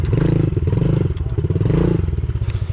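A pit bike engine runs close by during riding, a loud, rapidly pulsing putter with some clatter and thumps.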